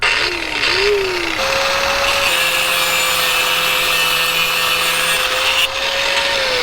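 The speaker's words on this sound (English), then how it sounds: "someone pulls up with an angle grinder" A loud, steady grinding whine of an angle grinder cutting through a metal bike lock, with a rasping, harsh edge that continues without pause.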